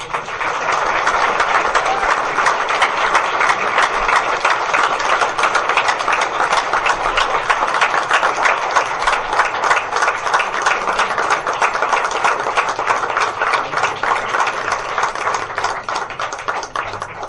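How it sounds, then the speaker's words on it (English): Sustained loud applause from a large crowd at a Board of Education meeting, dense continuous clapping that holds steady throughout without pause. "if we can give these folks a round of applause"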